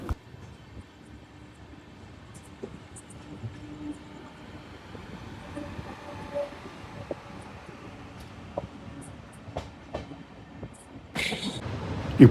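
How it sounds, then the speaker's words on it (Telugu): A train running at night on a neighbouring track, heard from inside a moving train near Vijayawada: a low, continuous rolling rumble with faint rhythmic clacks and rattles that swell toward the end, no talking. "నైట్ మనం ఇటు ట్రైన్లో వెళ్తుంటే అటు పక్కన ట్రైన్ శబ్దం చాలా"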